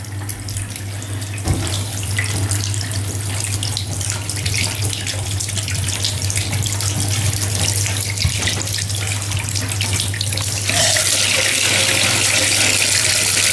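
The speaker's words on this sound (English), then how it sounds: "Just going to test the shower itself." A shower runs in a house, its water pouring in a loud, continuous rush with a steady low hum beneath and a slight change in the flow near the end.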